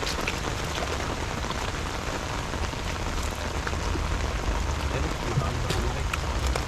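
Heavy rain pours down in a constant, loud roar of drops striking surfaces, unbroken throughout with no clear speech.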